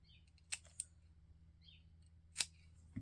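Scissors make a few sharp, quiet snips while trimming craft material for a Christmas tag, with three distinct cuts separated by near silence.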